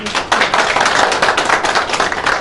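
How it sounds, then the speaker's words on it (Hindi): Dense, loud clapping fills the room at a company Eid Milan party for a Loncin motorcycle dealership, a steady close wash of many hands with no voices on top. "तो इनके लिए भरपूर तालियां हैं जी।"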